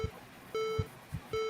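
Short electronic beeps from a Mac Plus, a steady tone repeating three times in an even rhythm, faint and clean, with low thumps between them and no voices.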